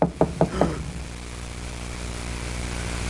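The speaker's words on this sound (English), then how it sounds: "I heard a knock at the door" Four quick, sharp knocks on a door sound in a fast, even rhythm right at the start, followed by a steady low hum with no further knocking.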